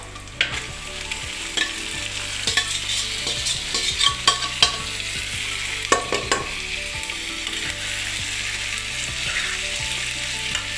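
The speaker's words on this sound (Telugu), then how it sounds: "ఇప్పుడు ఈ చికెన్ అయితే వేసుకుంటున్నాను" Chicken fries in a pan with yogurt, salt, turmeric and chili under a steady, close sizzle, punctuated throughout by irregular scraping and knocking stirring strokes.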